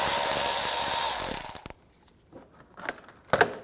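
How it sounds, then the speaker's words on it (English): A ratchet with a 10mm socket loosening a plastic nut on a 2009-2013 BMW 328i xDrive, a dense burst of close clicking, then scattered metallic ticks and a sharp clack near the end. "We're just going to use a 10mm socket."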